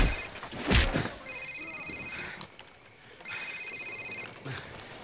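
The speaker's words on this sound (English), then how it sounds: "Sir, it's his cell phone." A cell phone rings in Call of Duty: Modern Warfare, with two bursts of an electronic trilling ringtone separated by a pause, following a loud thud, amid in-game ambience.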